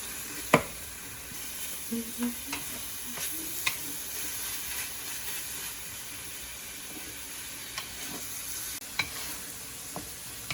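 Ground meat cooks in a pan with a splash of soup broth for Vietnamese hu tieu nam vang, giving a steady close sizzle and hiss broken by several short scraping stirs.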